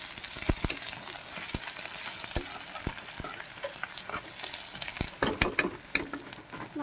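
Spices frying in oil in a pan while being stirred, a soft sizzle broken by frequent sharp scrapes and clicks of the spoon, close and fairly quiet, with no voices.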